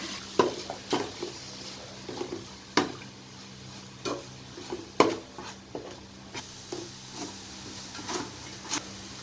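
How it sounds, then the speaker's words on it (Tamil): Onions and chopped tomatoes sauté in a pot for chicken biryani, with a steady background sizzle broken by repeated sharp scrapes and clacks of a spoon stirring at irregular intervals, close and clear. "2 வெட்டின தக்காளி போட்டு வதக்குங்க."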